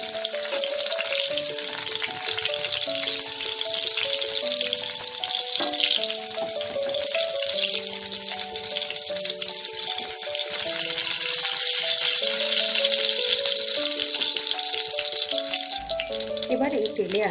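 Pieces of pointed gourd (potol) sizzle in hot oil with a loud, constant frying crackle, while a melodic musical backing with clear notes plays along.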